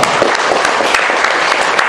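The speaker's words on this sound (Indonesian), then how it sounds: "Tepuk tangan dong." A dense burst of clapping fills the space, steady and loud, like an audience applauding together at a business presentation.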